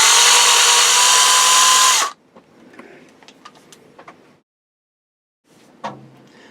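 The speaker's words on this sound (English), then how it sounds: "I can use the power drill to drill that hole out to the 1/8 finished size." A loud power drill whirs steadily for about two seconds, drilling a hole out to 1/8 inch for an RC sailboat build, then stops, followed by quiet clicks and handling noises, a pause, and a final knock.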